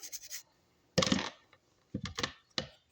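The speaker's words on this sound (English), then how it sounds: "Just gonna continue to scrub it. Try to get all the epoxy out of it." A brush scrubs epoxy residue out of a spray gun in a few separate bursts of scratchy rubbing, close and moderately loud, with quiet pauses between strokes.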